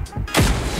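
An RPG rocket launcher firing in the mobile shooter PUBG Mobile Lite: a single sharp launch blast followed by a rushing, sustained whoosh, loud and up close.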